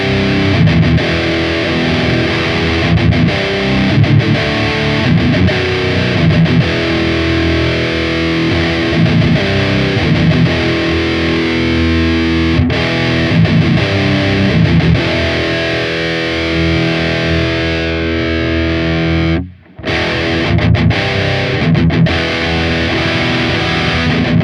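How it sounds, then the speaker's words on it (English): Electric guitar through an SLO 100 amp model on a Hotone Ampero with the gain pushed too high, chords breaking up into harsh, fuzzy distortion that rings loud and sustained, with one brief dropout near the end. "When you have the gain up too loud, it kind of breaks up in a weird way."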